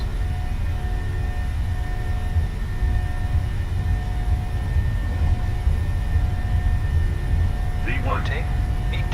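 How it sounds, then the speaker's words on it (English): PMDG 737-600 jet engines spooling to takeoff thrust in Microsoft Flight Simulator, a loud, steady roar with a broad rumble, continuous throughout, and brief speech near the end. "And we set takeoff thrust."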